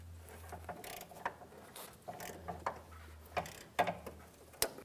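Wrench working a power steering line fitting on a 2003-2008 Toyota Matrix, quiet close metallic clicks and scrapes in an irregular series, alone without talk.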